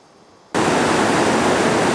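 Roaring Brook, a mountain stream below Katahdin's Chimney Pond, rushes loudly after a quiet start, a dense steady roar of tumbling water that comes in abruptly and holds close and unbroken.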